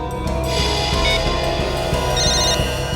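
A telephone rings after a number is redialed, a steady electronic ring tone repeating clearly and fairly loud, with no talking over it.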